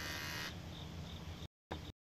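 Electric hair clippers used to shave a man's head, a loud close steady buzz that shifts tone partway through, cuts off briefly, then buzzes again for a moment.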